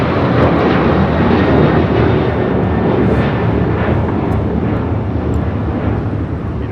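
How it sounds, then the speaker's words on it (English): United Airlines Boeing 737-900ER departing LAX for Denver: a loud, close, rumbling jet roar with deep low-end thunder that stays strong throughout and eases slightly toward the end, no talking. "This is United Airlines 1029 taking off to Denver, Colorado on a 737-900 ER"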